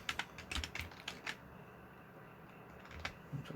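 Bursts of computer keyboard typing, brief clusters of close key clicks separated by a quiet pause, with another short burst near the end, while programming an Arduino.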